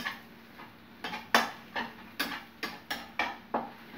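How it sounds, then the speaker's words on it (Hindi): A spoon stirs potato and cabbage in a pan over raised heat for a dry Indian sabzi, making about eight regular metallic clinks and scrapes, close and alone. "थोड़ा आँच तेज करके अच्छे से मिक्स कर लेते हैं।"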